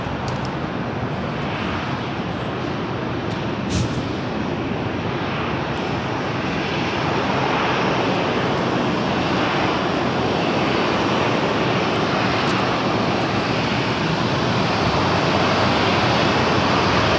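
Steady, loud roar of an Airbus A350 airliner's jet engines as it arrives on the south side at LAX, holding a broad, continuous rumble throughout with no voices.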